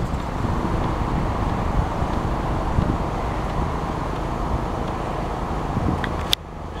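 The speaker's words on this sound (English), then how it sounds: "The wind's fluctuating back and forth." Wind of about 17 mph gusting around a vertical axis wind generator makes a steady, broad rushing roar that holds throughout, ending with a brief sharp knock.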